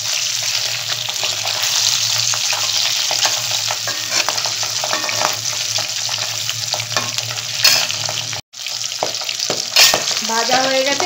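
Pabda fish fries in oil in a pan with a loud, steady, close-up sizzle and occasional scraping from a spatula. A brief cut in the sound comes near the end.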